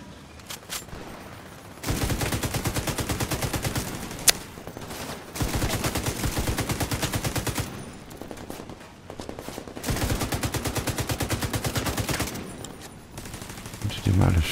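Automatic gunfire in The Division 2 aimed at turrets, loud rapid bursts of several seconds each separated by short pauses, close up, with a voice occasionally under it.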